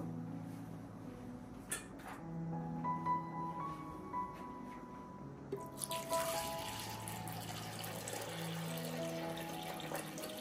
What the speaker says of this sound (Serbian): Šerpu ću napuniti sa vodom.